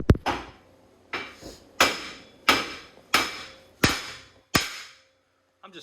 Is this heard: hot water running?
no